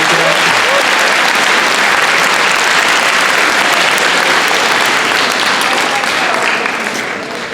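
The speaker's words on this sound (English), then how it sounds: "Could we get one more round of applause for everyone who ran today?" School audience giving a sustained round of loud applause for student council election candidates, dense, even clapping that tapers slightly at the end.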